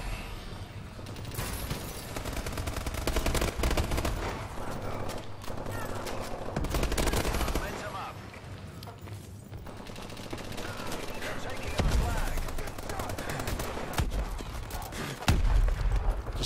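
Gunfire in Call of Duty: Advanced Warfare, with continuous rattling automatic shots and bursts layered over a dense, loud game soundscape, plus a few sharper reports near the end.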